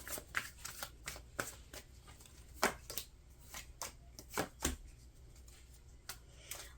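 Tarot cards being shuffled by hand, a run of quick crisp riffles and slaps at irregular intervals, close to the microphone and fairly quiet, with no talking.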